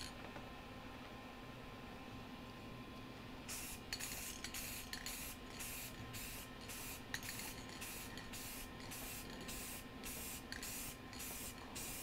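Spray paint is applied in light coats: a series of short hissing bursts from a spray can, close and fairly faint, in a quiet room with no talk.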